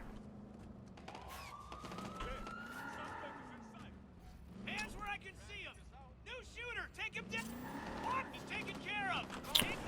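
A wailing police siren in Watch Dogs 2 sweeps up and down repeatedly in the background, mixed with engine and tire noise, while a voice talks faintly.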